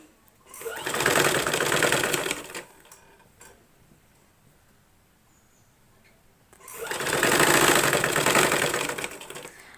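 A sewing machine stitches a pattupavada skirt in two loud close bursts of rapid mechanical whirring, separated by a few seconds of near quiet with faint clicks.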